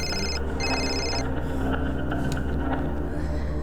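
A mobile phone rings with a bright electronic ringtone, sounding in two short bursts at the start over a steady low background hum.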